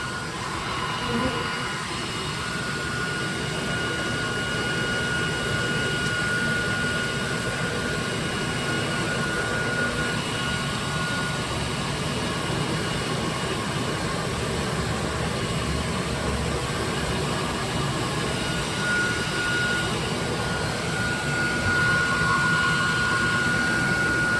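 A vacuum sucks thousands of honey bees out of a strong, healthy hive during a shed removal, producing a loud, steady, unbroken roar that runs the whole time with no voices over it.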